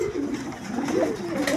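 A pair of magpie pigeons kept with their eggs coo steadily and close by, their low, rolling calls overlapping continuously with no talking.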